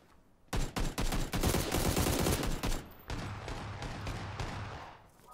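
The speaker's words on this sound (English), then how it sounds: "Fire directly in front of us." Rapid gunfire in PlayerUnknown's Battlegrounds, a dense string of sharp shots in bursts, loud at first and then slightly quieter and more spread out toward the end.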